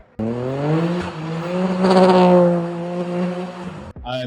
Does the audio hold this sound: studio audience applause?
no